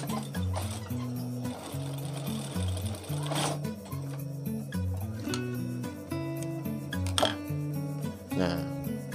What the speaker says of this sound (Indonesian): Setelah itu kita jahit seperti tadi.